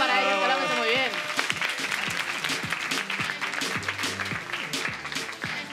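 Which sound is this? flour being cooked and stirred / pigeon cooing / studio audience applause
studio audience applause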